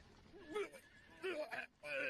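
Horses in a video game neigh in several short whinnies, loud and close.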